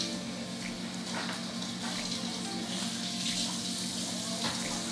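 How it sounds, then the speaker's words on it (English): Water runs steadily from a tap into a pot in a kitchen, a constant moderate splashing hiss with faint clinks, no voices heard. "Think I should add more water to the pot."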